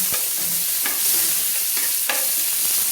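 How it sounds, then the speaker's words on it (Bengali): Tomato slices are stirred briefly in hot oil in a pan, a close, steady sizzle broken by several sharp scraping strokes of a spatula against the pan. "তেলের মধ্যে একটু নেড়ে নিলাম যাতে টমেটোগুলো গলে না যায়"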